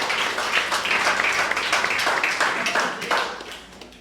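A church congregation applauds together in dense, steady clapping that fills the room and tapers slightly toward the end.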